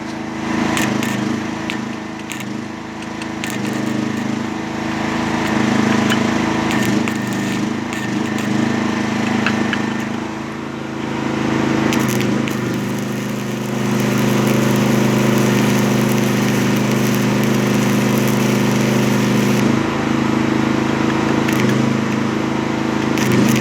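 Generator engine running on a small Brown Swiss farm in Ukraine, a steady close drone that holds throughout, with clanks and bursts of workshop noise over it.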